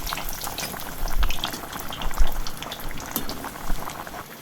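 Chapdi tavo vegetable curry simmering on a low flame, a steady close bubbling and soft crackle of thick liquid with small pops rising and falling throughout.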